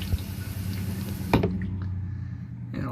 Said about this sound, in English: I'll flush it.